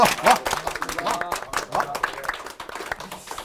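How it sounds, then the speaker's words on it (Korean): A studio audience at a live talk show gives the arriving guests a burst of scattered clapping, heard at moderate volume under overlapping voices and cheers. "박수 부탁드리겠습니다."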